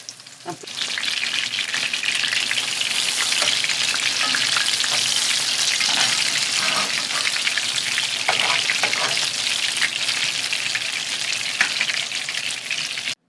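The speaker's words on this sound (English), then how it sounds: "So we fry them 2 or 3 minutes each side." Beef patties frying in a pan over lowered heat, a loud, dense, crackling sizzle that starts abruptly and holds steady for over ten seconds, with scattered sharper pops and no speech.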